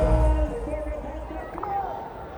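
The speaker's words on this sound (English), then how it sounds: "And listen to that crowd." Arena crowd at a Hockey India League match between Tamil Nadu Dragons and Vedanta Kalinga Lancers after a goal stands on referral, a loud roar of babble and cheering that eases off slightly toward the end, with no talk over it.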